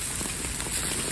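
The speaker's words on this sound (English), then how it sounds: "The cooking in the rain's not that bad." Steady rain patters outdoors on surfaces while burgers cook, a dense continuous hiss with no voices.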